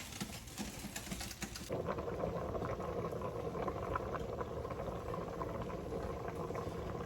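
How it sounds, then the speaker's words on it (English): Dry chickpeas come to a boil in a pot of water, a steady, dense bubbling hiss that swells in abruptly and then rolls on continuously at an even level. "It started to boil."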